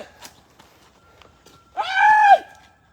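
After quiet rustling, a single loud, high-pitched scream from a woman rings out in a cemetery for about half a second, then stops abruptly.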